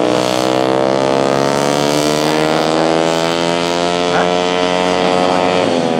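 A small 50cc kart engine drones loudly and steadily, its pitch slowly shifting, with wind buffeting the microphone throughout, driving in heavy rain at the Fuji Speedway kart course.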